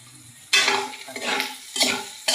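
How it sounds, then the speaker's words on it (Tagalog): Meat sizzles and gets stirred in a hot pan as the first step of Filipino string bean adobo, with loud scraping, sizzling surges repeating in a few strokes. "Gisa muna ng karne."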